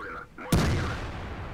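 A tank cannon fires once in World of Tanks during an IS-6 / IS-2 battle, a sharp loud blast with a long rumbling decay, preceded by faint background game noise.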